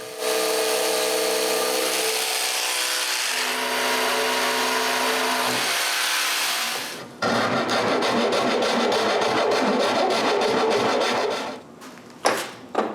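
Power tool cutting a notch in wood for a small workbench built for making bamboo bicycles: a steady motorized whine running several seconds, a brief pause, then a louder, rougher cutting burst, ending with short bursts near the finish.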